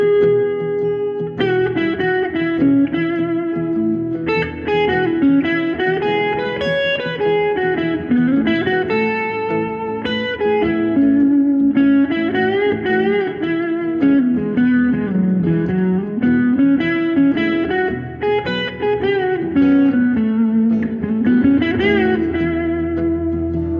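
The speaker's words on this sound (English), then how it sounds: "I'm going to put my distortion back on, and this is the blues with a major hexatonic" A distorted electric guitar plays a bluesy melodic line using the major hexatonic scale, with bends and sustained notes over a steady backing, loud and continuous throughout.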